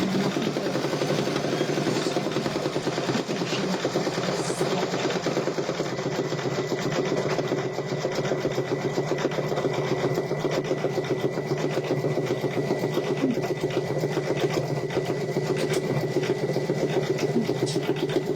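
A Brother embroidery machine stitches a penguin design, a continuous rapid needle chatter with a rhythmic mechanical rasp and steady hum, close and unbroken for the whole stretch, with no talk.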